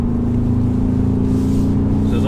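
Ford Ranger Raptor from 2020 climbing uphill in sport mode with rear-wheel drive engaged, its engine giving a steady, loud, sustained drone throughout.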